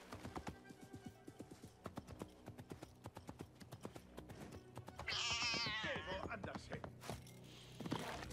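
Rhythmic hoofbeats clip-clop at a steady trot in Assassin's Creed Mirage, then a horse whinnies loudly before the hooves continue.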